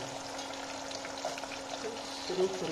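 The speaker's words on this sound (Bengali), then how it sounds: "এখন হচ্ছে পেঁয়াজ দিব। পেঁয়াজটা একটু ভালোভাবে ভাজতে হবে।" Onions and a bay leaf frying in hot oil in a pan, giving a steady soft sizzle with faint crackles and a light stir near the end; no talking.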